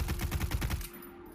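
Gun in Voidtrain firing a quick rattling burst of about eight closely spaced shots in a steady rhythm, loud and close, then cutting off abruptly into near-silence.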